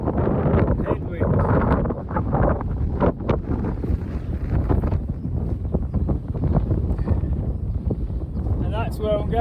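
Strong headwind buffeting the microphone outdoors near the Mackenzie Pass Road turn-off, loud rumbling gusts that surge and ease continuously, with a voice talking over parts of it.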